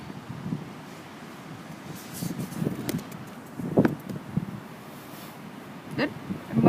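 Gusty wind buffets the microphone outdoors at a BB gun shooting range, a steady low rumble with louder surges around the middle and end, some faint rustling on top.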